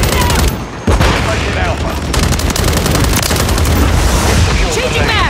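Dense Call of Duty combat: rapid automatic gunfire and repeated explosive booms crowd together almost without pause, loud and close, with short bursts of radio-style callouts mixed in.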